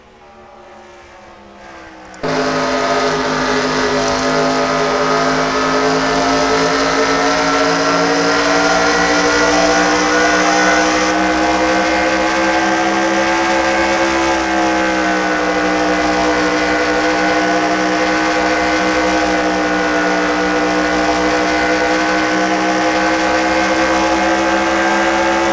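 Loud onboard race car engine from a stock car racing game at the Southern 500, a steady sustained drone with harmonic whine kicking in abruptly after a quieter start, holding at high revs throughout without talk.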